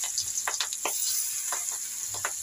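Fish frying in very hot oil, a soft steady sizzle with scattered crackles and pops, fairly quiet and heard alone.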